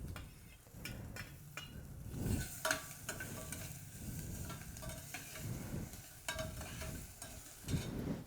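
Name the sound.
vegetables cooking in a pan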